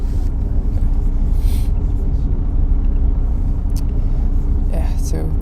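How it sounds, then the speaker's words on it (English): Steady low rumble inside a moving bus heading to Baltimore, with faint hisses and rattles rising over the drone throughout, no talking. "I'm on one of the buses right now to go to Baltimore."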